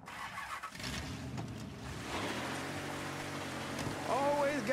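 A car engine starts and drives in Mafia 3, rumbling up close with a rushing, rain-like wash and a rising whine near the end; faint game speech sits underneath.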